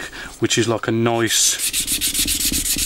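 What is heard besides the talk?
sanding HMS Victory wooden model with sponge sanding stick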